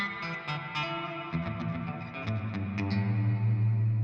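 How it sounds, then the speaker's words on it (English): An electric guitar played through the reverb of a Walrus Audio Melee pedal rings out in sustained chords with long washy tails, loud and close with no talk. "let me switch on the first reverb"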